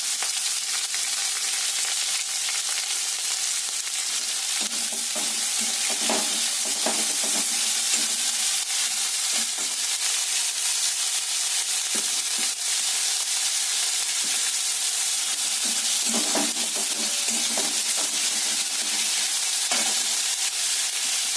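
Onions frying in a pan with a little salt, a continuous soft sizzle and hiss with occasional stirring scrapes, close and steady throughout with no talk.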